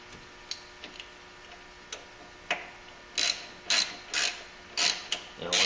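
A stubby wrench ratchets bolts into an aluminum carburetor on a Toro CCR snowblower, soft clicks at first, then a run of louder, close metallic ratcheting bursts in a quick, uneven rhythm.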